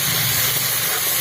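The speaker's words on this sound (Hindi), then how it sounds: "इसमें मैं हींग डाल देती हूँ ताकि इसकी खुशबू भर के आएगी। साथ ही साथ ये टमाटर डाल दें।" A loud, steady sizzling hiss rises from a hot pan over a wood-fired stove as tomatoes go in with browned onions and asafoetida, heard up close and unbroken.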